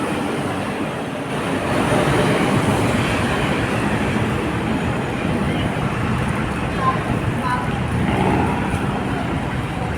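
A light rail train rumbles loudly overhead on the elevated LRT line above Carriedo, Manila, a steady broadband roar lasting throughout, with muffled voices and street noise beneath it.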